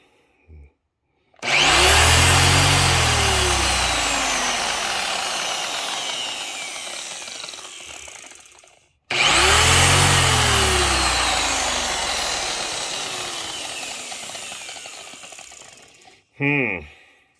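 An E1 EneAcro electric polisher fitted with a buffing pad runs in two long, loud bursts. Each burst spins up sharply, whines steadily and slowly loses pitch before cutting off, and a short final blip follows.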